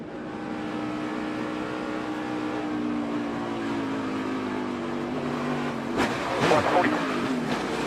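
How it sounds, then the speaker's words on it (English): A NASCAR stock car's engine holds a steady throttle drone during a crash replay, the pitch sliding down before a sudden burst of harsh impact noise near the end; the sound is fairly faint and distant. "the last second you hear Austin Dillon getting the throttle, hoping he could squeeze by"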